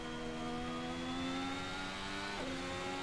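In a racing video game, a modern F1 car's engine whines loudly and steadily, then drops pitch sharply as the driver brakes and shifts down to fourth gear, with no voices.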